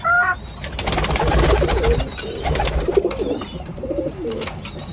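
Pigeons in a Lahore loft cooing close by, with several overlapping soft, throaty coos and some rustling and wing flutters throughout.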